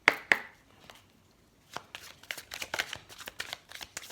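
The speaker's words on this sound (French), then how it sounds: "On va continuer en tirant quelques cartes du tarot de la magie verte." Tarot cards are shuffled and drawn, with a couple of sharp flicks at the start, a pause, then a run of rapid riffling card slaps close by.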